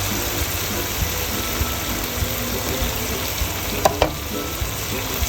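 Marinated pork frying in a pan for pork menudo, a steady close sizzle with a few sharper crackles and pops and no talking.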